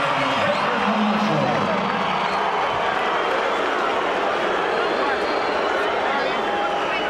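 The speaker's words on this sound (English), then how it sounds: "a round of applause for the five-time world champion, the challenger" Large boxing arena crowd at the Oscar De La Hoya versus Hector Camacho fight, a steady dense roar of applause and cheering that stays loud and even throughout, with murmuring voices mixed in.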